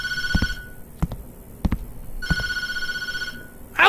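A telephone in the Tattletail game rings in two long electronic bursts, each preceded and separated by sharp thuds or knocks, ending with a sudden loud noise.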